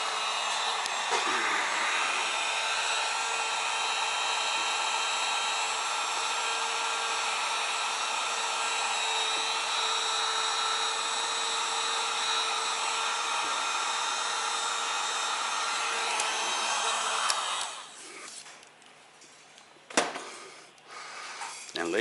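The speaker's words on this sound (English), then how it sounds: "heat gun to shrink it down" A heat gun blows a steady, loud whooshing hum for about seventeen seconds while shrinking heat-shrink tubing on an e-bike battery plug, then cuts off, leaving quiet with a few faint clicks.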